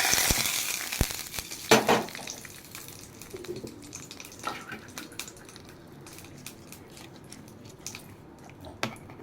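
A sizzling tempering of mustard seeds and curry leaves is poured into urad dal chutney, with sharp clatters and a hiss at first, then quieter crackling and scattered clicks, up close and with no speech.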